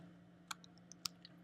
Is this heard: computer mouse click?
yes